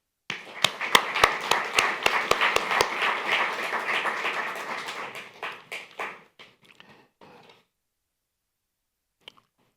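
An audience at the Daytona Beach State of the City address breaks into applause with dense, steady clapping that swells early and then fades out over several seconds, followed by a few scattered late claps.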